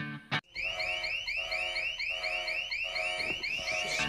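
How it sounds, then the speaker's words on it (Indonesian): A loud electronic bank alarm rings continuously in a rapid, warbling repeating pattern after a brief thump at the start. "ternyata alarm bank itu masih tetap bisa berbunyi"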